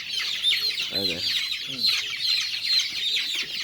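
Farm chickens around 32 days old cluck in short bursts during pox vaccination, close by over a steady hiss of a poultry house.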